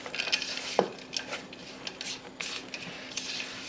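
A spoon working through a dense Christmas pudding mixture in a bowl, giving soft scraping and clinking sounds in uneven strokes, close up and fairly quiet, with no talk.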